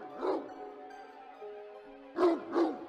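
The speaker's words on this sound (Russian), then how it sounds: "будто издалека доносится лай огромного пса" A large dog barks in the distance as a horror audiobook sound effect: one bark, a pause filled by a low, sustained musical drone, then two more barks in quick succession.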